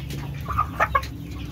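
A free-range village hen clucks a few short times nearby, soft and close, over faint background noise.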